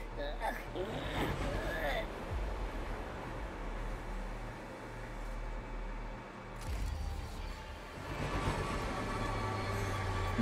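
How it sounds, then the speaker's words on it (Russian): Train rumbling through a railway depot in the video game Oddworld: Soulstorm, a steady low mechanical roll with hiss, swelling again near the end, with talk over it. "Сейчас один поезд остановится, и туда можно будет приехать."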